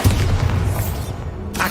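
A Bombarda spell explodes in Hogwarts Legacy as a loud, deep boom with a rumbling low tail that fades over about a second, followed by a short sharp crack at the end.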